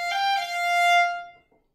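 A solo violin plays a quick mordent ornament, moving from F up to G and back to F, then holding the note with bright, rich harmonics before it fades out, close and clear with no talking.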